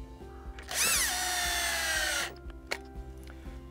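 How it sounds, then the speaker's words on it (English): A power drill fitted with a 6mm bit bores into a wall, a loud whining burst of about a second and a half that winds up and settles, with quieter knocks and background hum around it. "And using a 6mm drill bit, drill the holes"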